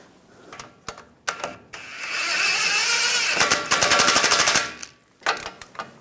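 An impact wrench rattles in rapid bursts while tightening the steering knuckle nut on a Ram 1500, loud and close, with a long whirring run, then clinks and short hammering bursts.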